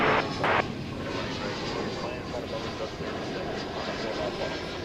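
A Cargolux cargo jet approaches at DFW airport with a continuous, fairly loud jet rumble, and brief indistinct voice chatter at the start.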